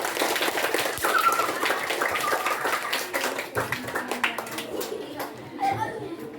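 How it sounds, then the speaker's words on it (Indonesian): Students in a classroom clap for classmates who presented, a loose patter of hand claps mixed with children's chatter and a teacher's voice. "Beri tepuk tangan untuk temannya yang sudah"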